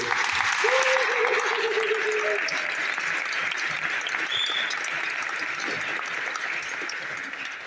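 Loud, sustained applause from a large audience, steady clapping filling the room and tapering slightly toward the end.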